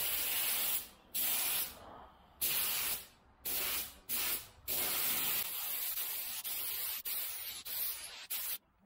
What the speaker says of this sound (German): fangen erstmal an, hier in der Mitte aufzuspritzen